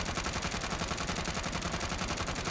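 Krig rifle gunfire in the Warzone video game: a fast, unbroken stream of evenly spaced automatic shots, loud and close throughout, with no voices over it.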